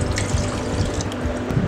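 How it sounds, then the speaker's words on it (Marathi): A glass of water is poured into a pressure cooker holding a container of brinjal, giving a steady, close liquid splash and trickle that runs the full length without pause. "कुकरमध्ये आता एक ग्लास पाणी घालूया"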